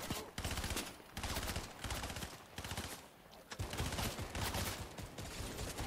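Fortnite gunfire comes as rapid bursts of automatic shots in several distinct volleys, separated by brief pauses, steady and fairly close, with no talk over them.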